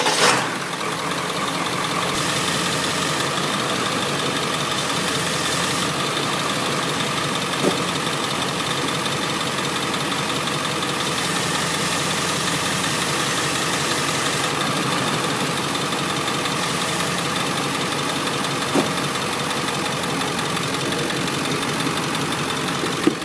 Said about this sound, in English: we're going to start the engine now.